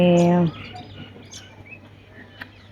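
A loud, nasal peacock call rings out at the start, then fades into quieter background chirps and distant calls over a soft outdoor ambience.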